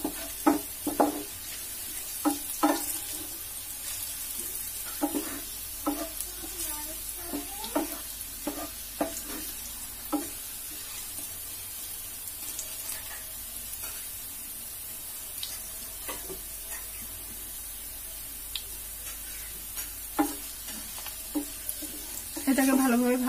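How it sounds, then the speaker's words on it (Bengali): Food frying in a pan for a tomato sour dish gives a steady background sizzle, with irregular scrapes and clinks of stirring close by. "এটাকে একটু ব্রাউন করে ভেজে নিব"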